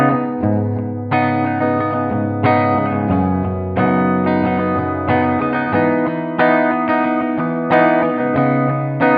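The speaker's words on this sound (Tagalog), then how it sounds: "So, ito yung tunog sa aking gitara na naka-reverb." A 1997 Fernandes JG-65s Jazzmaster with a sustainer, played through reverb, strums a series of ringing chords in a steady rhythm, each swelling and washing into the next, loud and with no talking.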